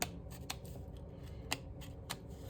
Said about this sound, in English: if you're using a scissors, all you have to do is just make a little hole on the inside and then cut from the inside out